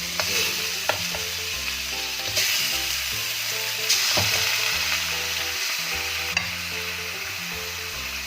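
Chicken pieces sizzling and frying in a pan for chicken adobo with coconut milk, a loud continuous crackling hiss with occasional stirring clacks, no talking.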